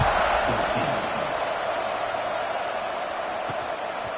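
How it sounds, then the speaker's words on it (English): Crowd noise in an American football video game after a touchdown, a steady roaring buzz filling the whole clip, loud and continuous, with commentary voices heard over it. "this crowd is buzzing after that last score."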